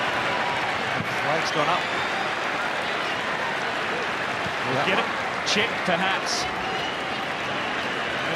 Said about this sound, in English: the crowd are still celebrating